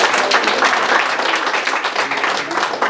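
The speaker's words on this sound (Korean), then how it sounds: "우리 주님께 영광의 박수 올리겠습니다" Applause from a congregation at an evening church service, a thick continuous round of clapping from many hands, loud and sustained from start to finish.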